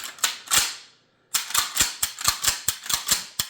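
Shots from a Mossberg 500 shotgun with a cut-down, shortened stock, a quick string of about a dozen sharp, close reports with a brief pause early on, each crack short and punchy.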